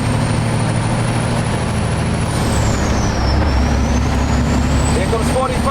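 A truck coasts off the throttle around 45 mph, giving a loud, steady low road and engine rumble inside the cab with no window whistle, while a faint tone glides down and back up partway through.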